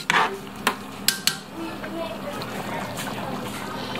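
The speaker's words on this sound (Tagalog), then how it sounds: "maglalagay po tayong kumukulong tubig para dire-diretso po siyang kumukulo" Boiling water is tipped into a cooking pot for a hot rainy-day dish: a few sharp metallic clinks of the pot come first, then a steady rushing splash fills the rest.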